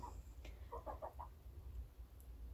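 Meat chickens, fast-growing birds fed cornmeal and ground mealworms, give a short burst of soft clucks over a low steady background hum.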